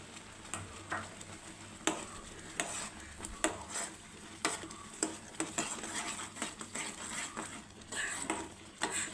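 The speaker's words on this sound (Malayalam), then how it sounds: "ഇനി ഇതിൽ നമുക്ക് പഞ്ചസാര ഇട്ട് കൊടുക്കാം" Sugar is stirred into papaya jam cooking in a pot: a spoon scrapes and clinks against the pan over a steady bubbling sizzle, close and moderately quiet.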